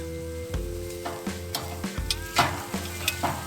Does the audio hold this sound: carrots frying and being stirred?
yes